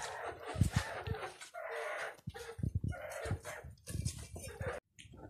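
Aseel hens on a farm clucking in short, close bursts with brief pauses, with no speech over them.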